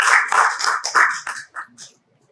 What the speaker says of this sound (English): So big round of applause for the wonderful artists we have here.